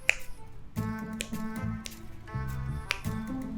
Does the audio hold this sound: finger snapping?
yes